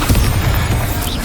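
Bombarda blasting spell from the game Hogwarts Legacy, a short, loud, deep boom with dense low rumble lasting just over a second.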